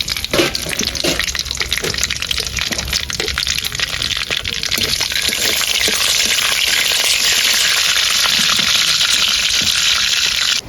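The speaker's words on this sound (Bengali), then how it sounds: "তেল গরম হয়ে গেছে দিয়ে দিচ্ছি কালো জিরে আর ইলিশ মাছ" Black cumin seeds and hilsa fish sizzle in hot oil, a steady, loud, continuous crackling hiss with frequent sharp spits and pops, unbroken throughout with no talking.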